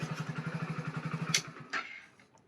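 A motorcycle engine idles with a steady, rapid chugging pulse close by, then cuts off abruptly, leaving a couple of brief clatters and quiet.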